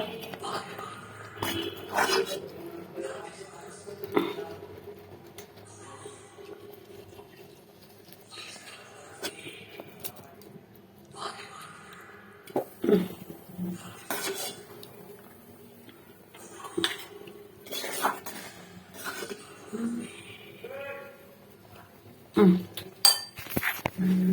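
Plates, cutlery and dishes clink and clatter in irregular bursts while breakfast noodles are served onto two plates in a home kitchen, with sharper knocks toward the end and faint background hum.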